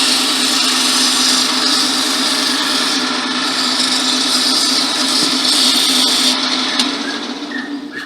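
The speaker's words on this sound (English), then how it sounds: "I'm going to turn the lathe back on." A wood lathe spins a wand blank, with 220-grit sandpaper held to the turning piece, giving a loud, steady whirring hum with broadband hiss that runs throughout and eases slightly near the end.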